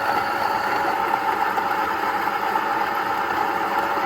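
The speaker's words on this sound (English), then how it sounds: "you drop the beans in, you shut the cover, you turn the grinder on" A Niche Duo coffee grinder grinding beans, a close, steady whirring motor hum with a grainy crunch layered on top, unchanging throughout.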